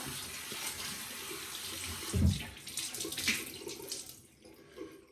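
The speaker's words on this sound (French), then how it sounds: "Donc maintenant, on va rincer notre savon." Water running from a tap as bar soap is rinsed off during a personal washing routine, a steady close splashing flow with a brief louder gush midway, no talking.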